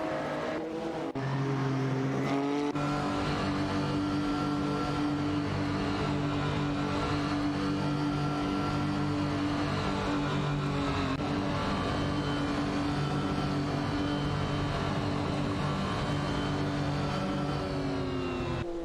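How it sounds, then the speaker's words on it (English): Race cars in a racing video game drone steadily at high revs, several engines blending into one continuous loud roar with shifting pitch, close and unbroken for the whole stretch. "Let's get ready to watch some epic AI race car action together."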